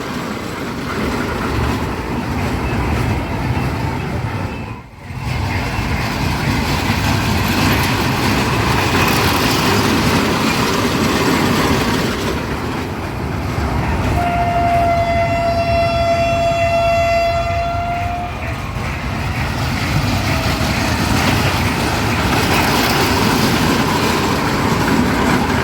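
Dragon-themed toy train ride running at a crowded fair, its rumble mixed into loud steady ambient noise with a brief thump, then a sustained horn blast of about four seconds partway through.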